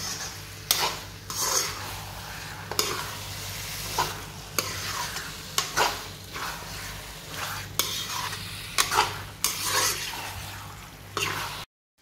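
Goat meat frying in oil while being stirred, steady sizzling under repeated scraping strokes of a utensil against the pan, roughly every second or two, close and continuous.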